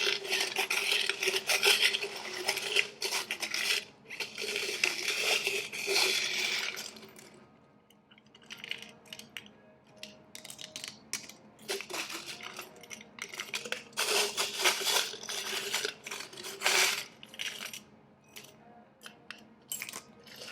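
Small metal tarot charms are poured and rattled, producing clinking, scraping bursts that swell loudly and then die to scattered tinkles before another rattling pour.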